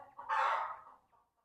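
A single short hen call, echoing and fairly clear, rising and fading within about a second from inside a deep 50-foot well.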